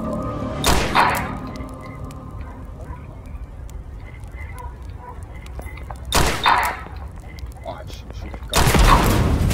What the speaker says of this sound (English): I'm gonna shoot one shot for you